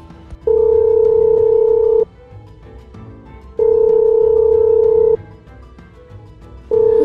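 An unanswered phone call rings out as a steady electronic ringback tone in long, even bursts of about a second and a half, separated by quiet gaps and repeating loud and close.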